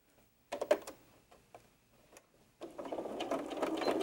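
A sewing machine stitches the batting-backed lining of an 18-inch doll's sandal, several short quiet bursts of needle clatter followed by a steady, continuous run of stitching, close by with no talk.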